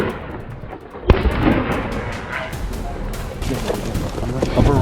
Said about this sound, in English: A barrage of gunfire followed, sending the rest of the herd into a panic.